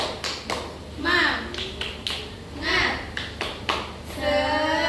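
Children in a classroom do a rhythmic group clap, the spirited class clap led by a teacher, with short patterned bursts of hand claps between voices chanting along.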